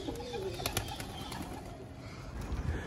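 Pigeons coo softly nearby with a few faint flutters and light shuffling, low and muffled.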